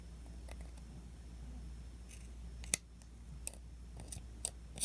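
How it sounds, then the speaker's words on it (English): Scissors snip through crochet string in several faint, short clicks spread across a quiet room, one sharper cut standing out among a few softer ones. "I'm just going to cut the string."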